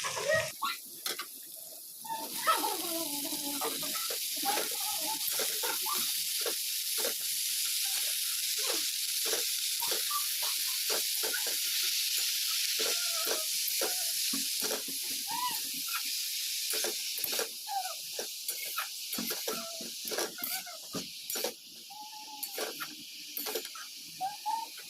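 Spinach fries in a covered pan, a long continuous hissing sizzle with rapid crackles and spitting bursts that stay fairly steady throughout.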